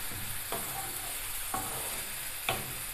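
Onion and peppers frying in a pan make a steady close sizzle, with three sharp stirring clatters spaced about a second apart.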